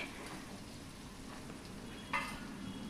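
Prawn and jackfruit curry cooking under a lid on a low-medium flame, a soft steady sizzle and hiss with a brief brighter crackle near the end, quiet and without talk.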